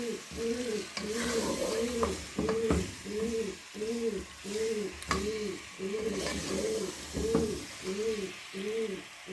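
A pigeon inside a kitchen coos in a repeated rhythmic pattern, close by, over soft sizzling of frying meat and occasional clinks of stirring.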